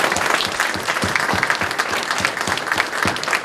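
An outdoor audience at a Veterans Day ceremony in Wareham applauds the color guard, loud, close and steady clapping with distinct individual claps punctuating the dense crowd sound.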